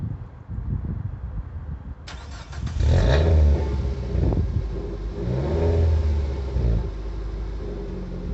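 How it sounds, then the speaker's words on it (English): Nissan Qashqai Acenta 1.6 16v with a new exhaust starts up after a brief crank, then settles into a close, quiet, low burbling idle with slight rises in revs, alone without talk. "it's quite a quiet wee system on startup. It's got a nice wee burble to it"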